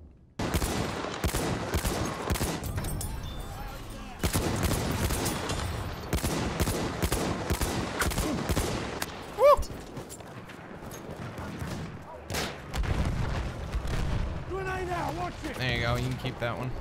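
Shotgun fire in Battlefield 1: a series of sharp, loud blasts spaced irregularly amid other battlefield gunfire, with someone talking between shots.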